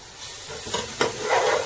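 Garlic added to browned onion in a pan for a Gambian chicken and peanut stew, stirred: a brief, rising sizzle with a couple of scraping spoon strokes, close and moderately loud.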